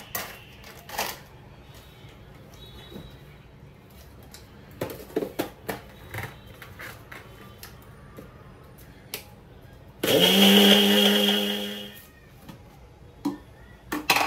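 A sudden loud whirring grind of a mixer grinder runs for about two seconds, then winds down, amid scattered clicks and clatter.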